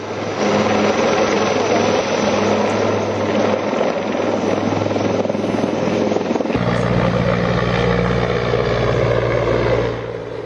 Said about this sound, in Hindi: एनआईए के हेलीकॉप्टर आप देख रहे हैं पहलगाम में उतरा।